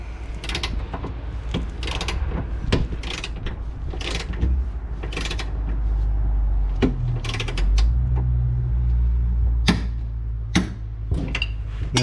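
Mechanical clicking and ratcheting of a torque wrench retightening a rear suspension bolt against a rubber bush on a Ford Territory during a 40mm lift spacer install, with repeated sharp close clicks and creaks spread across the clip.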